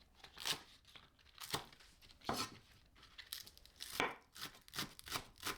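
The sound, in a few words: knife slicing a spring onion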